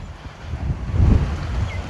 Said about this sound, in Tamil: இப்போ அருமையாக காற்று வீசிட்டு இருக்குது